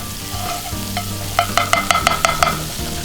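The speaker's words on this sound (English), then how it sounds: "we'll take our fresh rolls and we'll coat completely on one side and let that cook right there" Fresh burger buns cooking in melted butter in a pan outdoors on a trail, with a rapid run of scraping taps over a low, steady sizzle.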